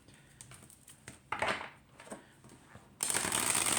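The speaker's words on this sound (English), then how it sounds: "if you just like the bridge shuffle, let's see how that goes" Oracle cards riffled together in a bridge shuffle: soft papery flutters and taps build to a brief riffle, then a dense, crisp cascade of cards snapping down close to the microphone.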